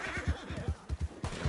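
A horse in Red Dead Redemption 2 Online neighs in a series of short, bouncy low pulses, a whinny repeating rhythmically for about a second and a half at moderate volume.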